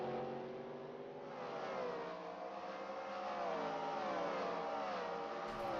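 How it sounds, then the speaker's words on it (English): NASCAR race cars pulling away from pit road, a faint, steady engine whir and drone that rises slightly in pitch as they accelerate, heard from a distance without speech. "William Byron, our Daytona 500 winner, as well as Cindric and Kyle Busch, pulling off pit road with no problems."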